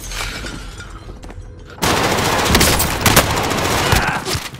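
Gunfire in Call of Duty: Modern Warfare: a quieter stretch of scattered shots, then a sudden dense burst of rapid automatic fire that stays loud and continuous to the end.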